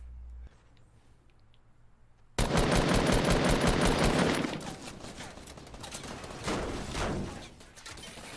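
Automatic gunfire in Fortnite duos, an opponent's teammate firing from a porta fort: quiet at first, then a loud sustained burst of rapid shots that continues with varying intensity to the end, alone without talk.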